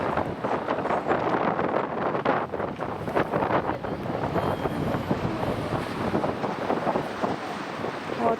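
Strong wind blows in Yelabuga, a continuous roaring buffet across the microphone with rapid gusty pulses and rumbling low end, loud and unbroken for the whole stretch.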